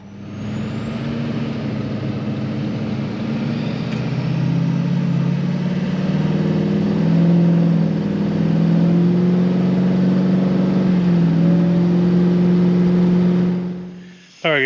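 Duramax LBZ diesel pickup fitted with a big turbo, heard from inside while driving at night: a steady, loud engine drone with a thin high turbo whistle running continuously for the whole stretch, then cutting off abruptly at the end.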